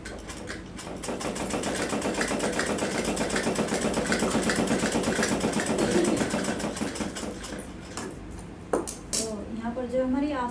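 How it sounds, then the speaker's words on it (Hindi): A sewing machine stitches a sleeve seam on a girl's suit with a rapid, even mechanical chatter for about eight seconds, close and loud, then stops as a person starts talking. "तो इस तरह से हम यहाँ पर सिलाई लगा देंगे।"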